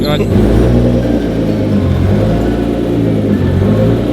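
A Lamborghini's engine revs inside a workshop, a loud, steady, close low rumble that holds for the whole stretch while people talk over it.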